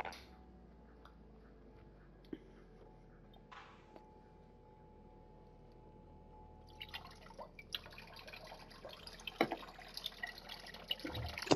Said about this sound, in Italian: Ha un cazzo di rubinetto che è mezzo rotto e sembra che pisci, ma sto soltanto sciacquando dei piatti